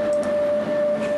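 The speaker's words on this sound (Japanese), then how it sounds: "スペインバルセロナに到着して地下鉄に乗車しました。" Barcelona metro subway train riding, a steady loud rumble with a sustained whine throughout, heard from inside the car with no talk.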